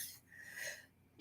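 A single sneeze from a woman during a live vintage sale, close and fairly quiet, with a sharp burst at the end after a short breathy build-up.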